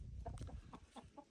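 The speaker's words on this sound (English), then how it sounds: "Here, chickens." Backyard chickens clucking as they are fed seeds, a few short close calls in an irregular patter with some low scuffling underneath.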